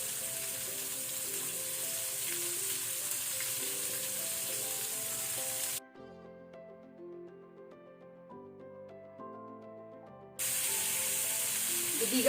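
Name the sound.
shrimps deep frying in hot oil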